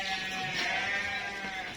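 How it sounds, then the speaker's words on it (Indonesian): Local sheep in a pen bleat in a steady, fairly faint wavering call, with no talk over it. "Nah, ini ada beberapa domba lokal."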